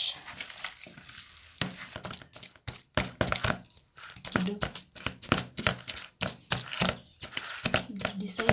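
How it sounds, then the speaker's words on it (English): Boiled potato being mashed by hand with a wooden mashing stick, a close, irregular run of dull thumps and squelches that starts sparse and grows quicker. "Decided to use a mashing stick"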